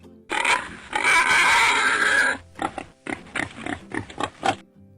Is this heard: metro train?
no